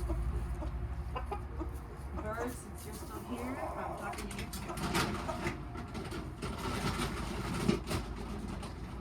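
Chickens cluck around a farm where puppies and lambs are kept, steady fowl calls spread through a busy, noisy outdoor background with a person talking over them.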